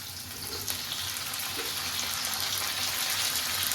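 Tomatoes hitting hot oil in a pan for home-made butter chicken, a broad hissing sizzle that swells and holds steady and loud, with a couple of faint clicks early on, no speech.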